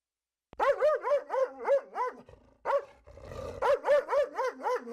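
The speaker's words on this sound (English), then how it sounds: "Let me just get the dog." A dog barks repeatedly and close in a quick run of sharp barks indoors in a house, pauses briefly, then breaks into another rapid burst.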